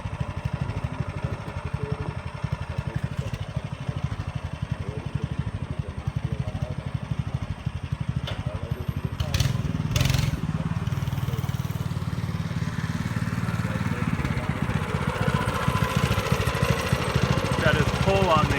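A Baja minibike engine, freshly carb-cleaned, runs steadily and loud throughout, a gritty low-pitched putter that swells briefly as the throttle cable is pulled to give it gas.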